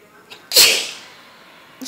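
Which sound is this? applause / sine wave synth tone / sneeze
sneeze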